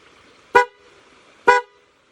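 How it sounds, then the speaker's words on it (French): Two short, loud honks of an old car horn, about a second apart, nasal and brassy against a quiet background. "Un énorme klaxon de vieille bagnole bien comme il faut, assez costaud"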